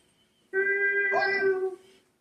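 A cat gives a single drawn-out meow lasting just over a second, close and loud, after a quiet start.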